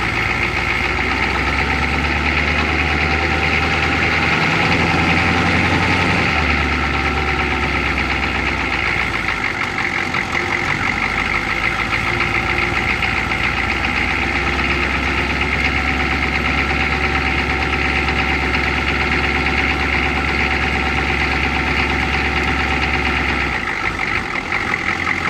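A 1983 Chevy G20 van's 6.2L Detroit Diesel with timing issues runs in drive, a steady close, loud rough clattering drone with knocking and vibration throughout.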